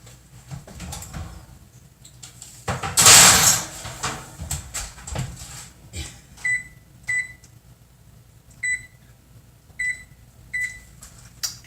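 An oven door opening as a low-fat snack mix goes in to bake, one loud clattering burst early on, followed by a run of short electronic beeps as the timer is set, close by, with no speech.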